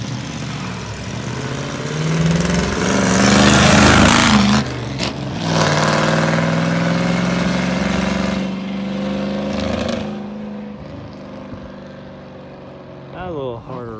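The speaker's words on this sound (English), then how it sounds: "On this run, just getting all the licensed people out here, you know, going through the gears, making sure everything seems right." A 1963 Ford Galaxie engine revs up through the gears on a road, rising and falling with each shift, loud and close before easing off to a quieter idle, with a person talking over it.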